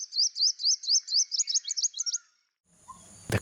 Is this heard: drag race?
no